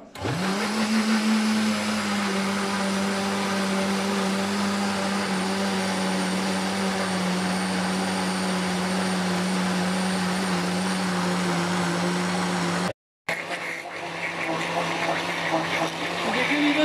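An electric mixer grinds fruit cake batter with oil in it, a loud steady motor whine running unbroken for about thirteen seconds, cutting out briefly, then starting up again.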